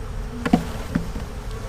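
Honey bees being shaken off a hive frame during a brood inspection buzz close by in short, uneven bursts over a low background hum, a few louder drones standing out briefly.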